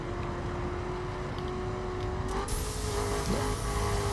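Car engine in The Crew racing game heard from inside the cabin, a steady hum that climbs in pitch as the car accelerates, with a rising whine near the end and no talking.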